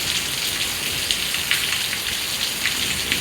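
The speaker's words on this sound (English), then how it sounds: "look at that. It's thundering." Steady, dense rain hisses on a surface with scattered close drops throughout, at a constant level and with no voices.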